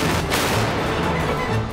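Rapid-fire gunshots during a military shooting drill, heard as a dense, loud, continuous roar of reports with scarcely any gap between them.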